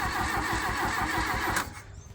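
Diesel Mk1 Volkswagen Golf engine cranking slowly on a large battery, a steady rhythmic starter churn with regular pulses for about a second and a half before it cuts off, loud and close with no talk.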